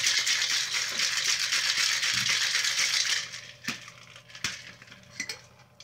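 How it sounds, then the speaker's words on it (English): A cocktail is shaken hard in a shaker at a home bar, ice rattling rapidly and loudly for about three seconds, then a few separate clinks and taps as it settles. "So we're going to shake this one up."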